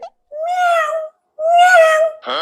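A person's voice imitates a cat meowing: two long, rising-and-falling mews, close and clear, separated by a short pause, with another voiced sound starting at the end.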